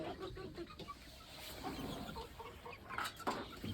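Cochin bantam chicks about two and a half months old cluck softly and irregularly nearby over a low, busy background of rustling and scratching.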